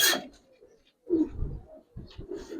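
Giribaz pigeons coo in low, soft bursts at close range, a brief rustle at the start, then two rounded cooing phrases separated by a short pause, with no voices over them.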